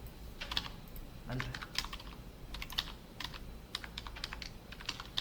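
Steady typing on a computer keyboard while coding, quick irregular key clicks and occasional heavier key strikes, close and fairly quiet over a low background hum.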